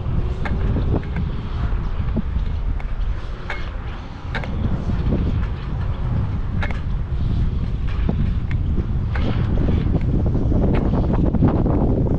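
Outdoor wind buffeting the microphone beside a UDIRC Arrow 5 RC boat on the water, a loud continuous low rumble with irregular gusty thumps and pops throughout.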